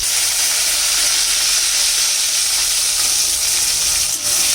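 Onion pieces fry in hot oil with dried red chillies and bay leaf for a chicken curry, a loud, steady close sizzle that hisses without pause and has no talking over it.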